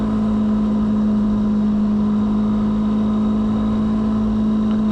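Steady, loud drone of a Honda CB300R motorcycle engine holding high revs while cruising in sixth gear, a constant hum with heavy wind noise and no speech.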